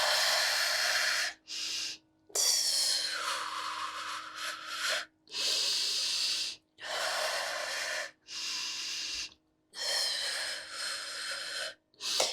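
Repeated forceful exhaled breaths and gasps during a core and pelvic-floor workout, about seven bursts separated by short pauses, close and loud with no talking.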